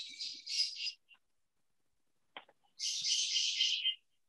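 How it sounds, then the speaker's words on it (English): Pet birds chirping indoors, two bursts of bright, fairly close twittering separated by a quiet gap with a few faint clicks; no one speaks. "that's our birds"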